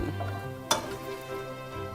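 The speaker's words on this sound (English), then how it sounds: "so these jalapenos, all we're doing is lightly frying them and then putting them off to the side" Jalapeños lightly frying in a pan give off a soft, steady sizzle, broken once by a single sharp clink of a utensil against the cookware.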